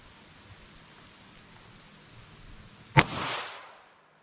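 A single sharp gunshot from a .22 WMR (22 Magnum) handgun cracks out after a quiet stretch, followed by a brief decaying echo.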